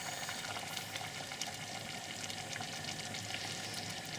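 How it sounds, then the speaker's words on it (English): Plum sauce at a rapid boil in a pan gives a faint, steady bubbling hiss with tiny crackling pops, continuous and even, with no talk. "Now we brought our plum sauce up to a nice rapid boil."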